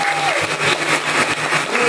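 An audience at a church recollection gathering in Agats, Papua, claps for the keyboard player, a short burst of steady applause with a voice briefly speaking over it.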